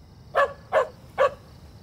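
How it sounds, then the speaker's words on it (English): A dog gives three short, evenly spaced barks at close range, each a clear single woof against a quiet background, with no talking. "Hey, it's Bill Fliegman's dog."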